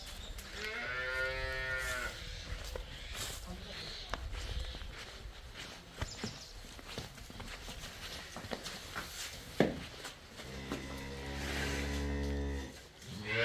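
Cows on a dairy farm, kept for sale alongside calves, give two long, loud, close moos, one at the start and one near the end, with faint shuffling steps and farmyard noise in between.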